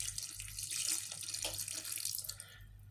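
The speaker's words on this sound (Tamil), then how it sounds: "நான் கொஞ்சம் தண்ணி சேர்த்துக்கிறேன்." Water pours steadily into a pot of tamarind kuzhambu curry, a soft continuous splashing stream heard alone and close, tapering off at the end.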